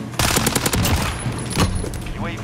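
Fennec (Vector) submachine gun firing in Call of Duty: Modern Warfare multiplayer, a very fast, loud burst of close gunfire with a few separate shots, with a voice speaking briefly underneath.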